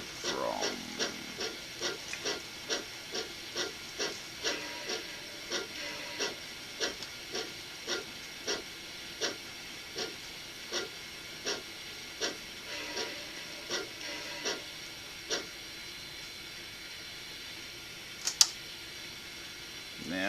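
An N gauge model train clicks steadily along the track into a siding, rhythmic ticking over a faint mechanical hiss, slowing and thinning out toward the end.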